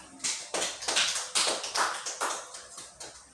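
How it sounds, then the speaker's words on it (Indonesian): A Class IX classroom group claps about a dozen times in a steady, somewhat uneven rhythm, fairly quiet and with no voices. "Oke, tepuk tangan."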